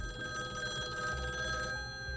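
Old-fashioned telephone bell ringing steadily throughout, a continuous metallic trill heard alone at moderate volume.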